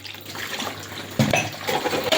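Steady rush of water pouring from a mended kitchen tap into a sink, continuous and close, with a slight surge partway through and no talking.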